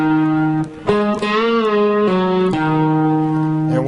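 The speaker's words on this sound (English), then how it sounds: "Next up, we have the string bend lick, and it looks like this" An electric guitar plays a string bend lick: sustained, distorted notes pushed upward in pitch by the 2nd finger on the 3rd string, held and re-picked several times, loud and alone.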